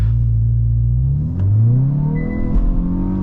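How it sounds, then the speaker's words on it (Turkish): A Hyundai i20 N engine revs hard at full throttle from inside the car, a loud, close rising drone that climbs in pitch with rumbling underneath. "Öndeki arabayla torbaya kadar gazlayacağım şimdi."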